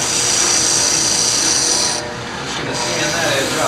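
A machined part has its edge sanded with a power tool, giving a steady loud abrasive whine and rasp that dips briefly in the middle before resuming.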